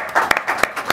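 Brief hand clapping from an audience at a university debate, a few sharp, distinct claps in a quick irregular rhythm, close and moderately loud.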